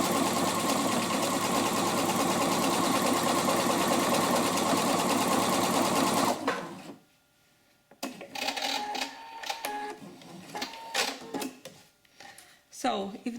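A Pfaff 720 sewing machine runs steadily and loudly for about six seconds while sewing decorative stitch motifs, then stops abruptly, followed by quieter handling clicks and rustles with a person talking.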